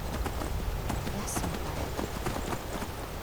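Horse hooves clip-clopping while riding in the modded video game Skyrim, a steady rapid hoofbeat rhythm up close, with game sounds around it.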